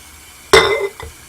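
Glass canning jars being handled while preparing to can fresh orange juice give one sharp, ringing clink followed by a fainter knock, close and otherwise quiet.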